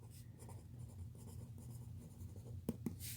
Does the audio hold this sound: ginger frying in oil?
no